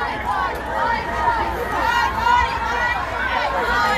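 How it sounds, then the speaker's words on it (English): Protesting nurses march through a Toronto street on University Avenue, a dense crowd babble of many voices and footsteps rolling steadily at moderate distance, with occasional louder calls. "Crowd has begun marching."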